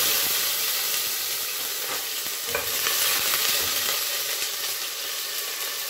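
Loud, continuous sizzling of onion frying in hot oil, with occasional stirring scrapes; no talking.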